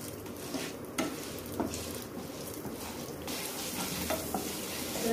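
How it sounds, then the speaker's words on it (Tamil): Urad dal frying in hot oil until golden gives a soft, steady sizzle with occasional light scraping clicks from stirring, fairly quiet and close, without any talking. "நல்லா ஒரு பொன்னிறமா வர வரைக்கும் வறுத்து எடுத்துக்கலாம்"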